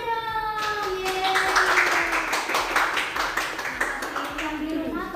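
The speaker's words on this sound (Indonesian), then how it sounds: "Oke, tepuk tangannya dong." Studio audience clapping to welcome a flight attendant guest: dense, energetic hand clapping runs throughout, with a short cheer from the host at the start.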